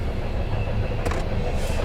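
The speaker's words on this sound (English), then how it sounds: "Pretty long train though, which is nice." A long freight train rolls past close by, a loud continuous rumble of wagons with faint rattling and clatter throughout.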